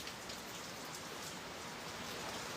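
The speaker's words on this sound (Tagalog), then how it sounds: "Grabe ulan na dito sa Manila" Heavy rain pours steadily in Manila, a dense, constant hiss of drops on surfaces with no pauses and no voices.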